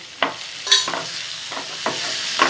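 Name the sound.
tomatoes frying and being stirred in a pan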